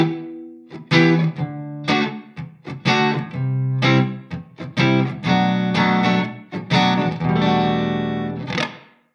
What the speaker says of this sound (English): That's why we have the room reverb.